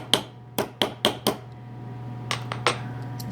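A hammer flattening the edges of bottle caps for earrings, five sharp metallic strikes in quick succession close by, then a few lighter taps after a pause, over a steady low hum.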